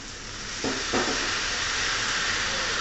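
Drunken noodles fry in a hot wok with oyster sauce, light soy and dark soy, giving a steady close sizzle and hiss that swells briefly as the sauce hits, then carries on evenly with no talking.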